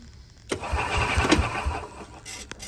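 A gas golf cart engine cranks with a few rhythmic starter pulses, then catches and runs with a steady mid-pitched idle, close and fairly loud, cutting off near the end.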